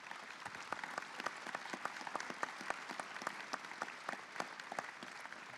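Audience at a transportation summit applauds a panel, a fairly faint, distant wash of steady clapping with distinct individual claps standing out.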